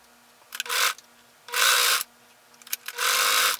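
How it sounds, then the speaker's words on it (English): A sewing machine runs in three short bursts, stitching a fabric bow for a pullover blouse, each burst a bright whirring buzz of about half a second, separated by quiet pauses. "We're going to sew here and here, leaving an opening in the middle."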